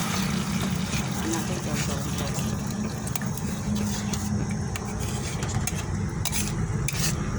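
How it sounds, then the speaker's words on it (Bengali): Hot water poured into a cooking pan, producing a loud, steady sizzle and bubbling hiss with stirring and scraping, continuing throughout with faint voice in the background. "এবার হালকা জল দিয়ে দিলাম, আর জলটা গরম দিতে হবে।"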